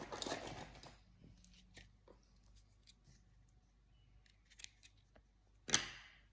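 Scissors snip with a loud cut near the end while tape is handled to fasten a parcel wrapped in string, amid quieter rustles and small taps, close and with no talking.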